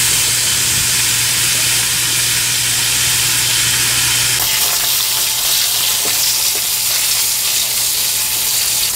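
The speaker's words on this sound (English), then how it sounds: "Until you hear that sizzle, then you're gonna have to start moving them." Hot dogs sizzle on a hot cooking surface, a loud, steady hiss and crackle of frying that runs throughout, shifting slightly in texture partway as the sausages are moved.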